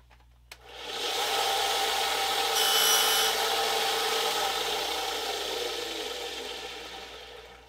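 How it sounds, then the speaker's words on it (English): A disc sander grinds the end of a scratch-built model railroad rail for a turnout, a steady close abrasive rasp starting abruptly after a brief tap, swelling slightly midway and holding for several seconds. "I can just touch that up on the disc sander."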